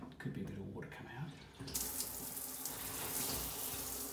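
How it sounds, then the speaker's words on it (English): Water gushes suddenly from a loosened shower tap during a tap washer service in a bathroom renovation, a loud steady rush breaking in after a muffled clunk and continuing strongly to the end. "that could be a bit of water come out"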